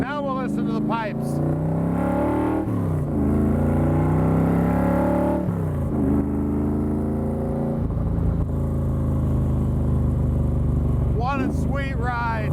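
A 1965 Shelby Cobra replica by Factory Five revs repeatedly, its exhaust note rising and falling through shifts in a loud, continuous roar.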